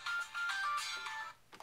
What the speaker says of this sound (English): That's my unknown ringer if I don't know someone.